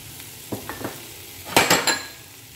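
Chopped potato and cabbage tossed into a hot pan for a creamy pasta, with a few soft clanks followed by a louder burst of sizzling and clatter near the end.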